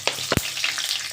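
Mustard oil with dried chillies sizzles in a pan: a brief, close, bright hiss with a few sharp crackles and a stirring tap.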